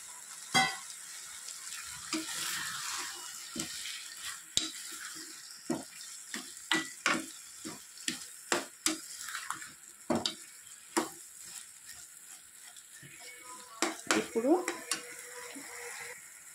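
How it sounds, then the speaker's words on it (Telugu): Prawns fry in a pan on a soft background sizzle, broken by repeated sharp scrapes and knocks of a spoon stirring against the metal. "ఆ రొయ్యలు వేసేయాలి"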